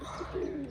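Pigeons in a loft with a broken trapdoor give soft, low cooing that swells briefly in the middle, faint and close, with no talking.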